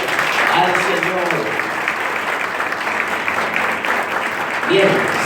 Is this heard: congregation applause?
yes